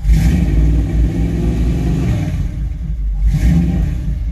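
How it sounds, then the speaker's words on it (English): A 1978 Dodge Chinook motorhome engine runs close by, a steady loud mid-pitched rumble that swells briefly with revving at the start and again near the end. "The engine is running."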